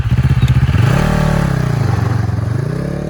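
A CFMOTO 700CL-X with a 700cc inline twin engine revs loudly and close, its throbbing pulse dipping and then climbing steadily, with no talk over it.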